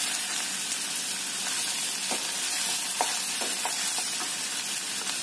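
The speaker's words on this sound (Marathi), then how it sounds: "शेंगदाणे थोडसे परतले गेल्यावर त्यामध्ये कांदा घालायचा" Peanuts and onion fry in a pan over medium heat, with an even, fairly quiet sizzle and soft intermittent stirring taps, with no voices.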